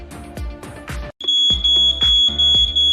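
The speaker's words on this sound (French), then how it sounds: "L'alarme s'arrête quand la fumée s'est dissipée." A home smoke detector sounds its alarm, a loud piercing high tone with rhythmic pulses, briefly cutting out before resuming, over a second beeping pattern.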